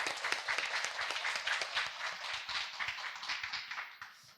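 An audience at a Korean workplace talk show claps loudly and steadily for a labor attorney coming up to speak, a dense wash of hands that keeps going throughout before easing off near the end.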